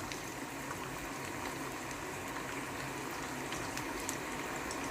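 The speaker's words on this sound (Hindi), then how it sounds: "चिकन को मैं डालूँगा गरम गरम ऑयल के अंदर और इसको मैं अच्छी क्रिस्पी डीप फ्राई कर लूँगा" Chicken pieces deep-fry in hot oil for a restaurant-style Chicken Manchurian, a soft, even bubbling hiss that runs steadily throughout with faint crackles and no talk.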